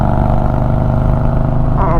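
A motorcycle fitted with an Aim hydraulic clutch revs hard nearby, its loud, steady engine drone holding strong and climbing in pitch toward the end.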